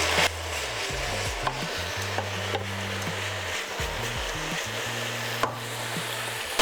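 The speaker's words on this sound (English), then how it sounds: "Then I'm also adding in the mushrooms at this point, and also mixing everything in well." Mushrooms stirred into a pan for creamy chicken soup give a steady scraping, shuffling sound over a soft continuous sizzle, close and even throughout, with a low hum underneath and no talking.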